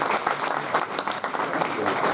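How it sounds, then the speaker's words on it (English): Audience applause for a panel at an NHS and social care discussion event, a dense burst of many hands clapping for about two seconds, fairly close and steady with slight swells. "ask you to give them a round of applause"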